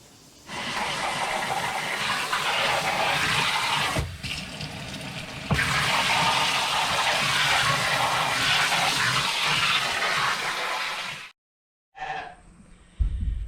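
Sheep coats are rinsed under a strong spray of water, a loud continuous gushing hiss that runs for several seconds, pauses briefly, resumes, then cuts to silence before a quieter splash near the end.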